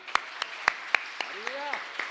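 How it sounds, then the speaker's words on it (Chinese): A church congregation claps during a Sunday worship service, with sharp, fairly evenly spaced claps ringing out in a roomy space while a voice briefly rises and falls in the middle. "要拍手的就要大声的拍手，将荣耀归给我们主耶稣基督。"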